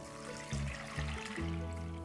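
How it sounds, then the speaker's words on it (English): Homemade oat milk pours from a container into a nut milk bag, a steady close trickle and splash that swells in a few pulses, with low tones humming underneath. "We're just going to pour that in."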